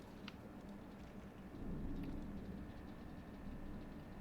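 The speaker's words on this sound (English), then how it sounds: "I'm hearing thunder go off in the distance" Distant thunder rumbles faintly amid steady rain, a low swelling roll that rises midway and lingers at a quiet level.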